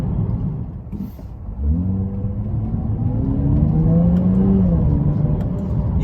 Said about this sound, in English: You can really hear the exhaust and the supercharger whine in this car